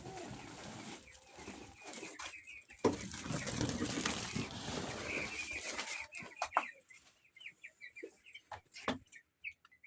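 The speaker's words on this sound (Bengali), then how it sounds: "চলো এখন ওর মুরগিগুলো দেখে আসা যাক।" Broiler chickens clucking inside a poultry shed, a dense flock murmur close by that gives way to scattered individual clucks and calls near the end, heard alone without talk.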